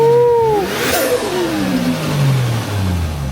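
A JDM car engine is blipped with throttle, close by: a quick rev climbs and falls, then settles into a lower drone with another smaller rise, with no talking.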